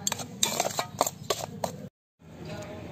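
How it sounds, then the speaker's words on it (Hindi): A spoon clinks and scrapes against a bowl while mixing spice masala for poha chivda namkeen, several close, bright metallic taps in an irregular rhythm, then a brief dead silence and quieter stirring. "ये अभी इस पोहा नमकीन के लिए मसाला पूरा अच्छे से हमें मिक्स कर लेना है"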